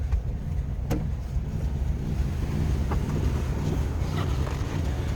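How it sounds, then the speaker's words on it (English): A 1941 Cadillac Series 61 flathead V8 idles, a low, steady rumble, a smooth deep hum with faint wind noise over it and no talking. "That L-head V8 just purrs."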